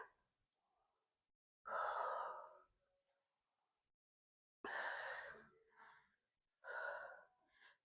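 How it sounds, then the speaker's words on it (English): A person takes deep breaths during a dumbbell workout, three loud close exhales that rush out in heavy sighing bursts, separated by near silence. "Couple deep breaths"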